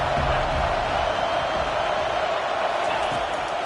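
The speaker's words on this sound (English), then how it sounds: "Decibels rising as the crowd gets behind this defense on 3rd down." Stadium crowd roar in the college football video game College Football 25, a dense, steady wall of cheering that stays loud and continuous through the whole stretch on a third-down defensive stand.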